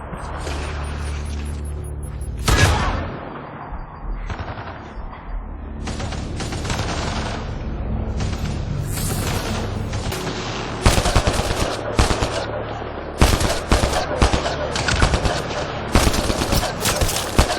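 Gunfire from the video game Mass Effect: Andromeda crackles in rapid bursts and sharp single shots, loud and close, with short pauses between volleys and a heavy hit near the start.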